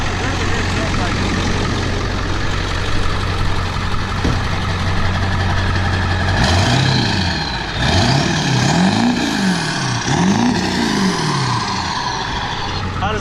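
A straight-piped 1996 7.3 PowerStroke diesel truck with the muffler deleted, loud and close, idling with a deep rumble and then revving up and down through gear changes, with people talking over it.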